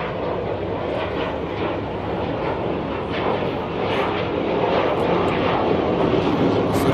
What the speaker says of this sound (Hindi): सूर्यकिरण, तेजस, मिराज जैसे फाइटर जेट्स ने इस एयर शो में जलवा दिखाए।